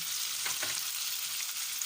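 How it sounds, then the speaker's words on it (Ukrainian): Soft, steady sizzle of fish stewing in an oiled pan, a gentle continuous hiss heard close up with no voices. "Кидаємо нашу рибу і тушкуємо її"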